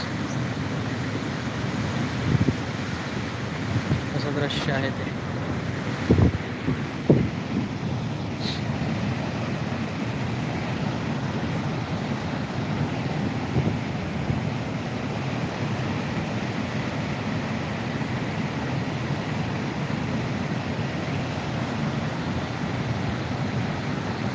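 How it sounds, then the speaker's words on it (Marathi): The flooded Manjara river near Waghdari village rushes past as a continuous broad roar. A few short knocks or bumps cut through the steady flow. "मांजरा नदी आहे वाघदरी म्हणून गाव आहे ह्या ठिकाणाहून हेचा प्रवाह चालू आहे"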